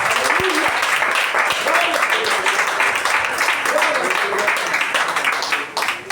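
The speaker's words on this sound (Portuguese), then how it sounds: "Vamos receber o presbítero com as palmas bem alegres para Jesus." Church congregation clapping joyfully to welcome an elder during a Portuguese-language communion service, lively sustained clapping from many people with voices calling out over it throughout.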